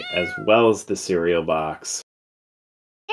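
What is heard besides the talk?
cat meow alert sound for a stream pledge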